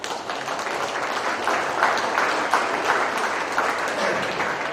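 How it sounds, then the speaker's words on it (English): An audience at a national show breaks into applause for the recipient of an honorary award, a full, steady wash of many people clapping that holds at even loudness for several seconds. "Let's give him a round of applause"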